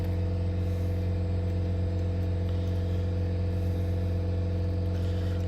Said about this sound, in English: That's the air compressor running in the background.